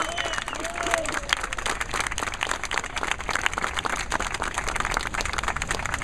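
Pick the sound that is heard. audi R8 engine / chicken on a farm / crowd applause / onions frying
crowd applause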